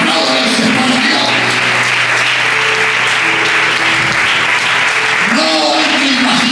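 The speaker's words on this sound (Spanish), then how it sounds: "Aplaudan para Dios" A church congregation claps for God while a sustained sung or spoken tone runs beneath, the applause loud and continuous throughout with a voice rising again near the end.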